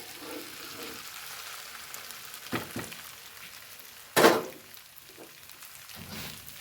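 An omelette fries in a pan with a faint, steady sizzle and crackle, broken by a couple of soft clatters and one louder scrape of a utensil against the pan.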